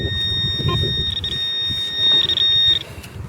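Metal detector signal tone during outdoor coin hunting for five-cent pieces, a steady high electronic whine sustained for about three seconds over low rustling and handling noise.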